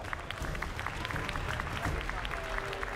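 Audience applause and crowd noise for two cows at a Tarentaise cattle show, a steady wash of clapping lasting throughout, with voices mixed in.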